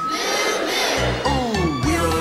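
Several children's voices give a loud, drawn-out imitation of a cow's moo, a sustained group shout that rises and falls over roughly two seconds.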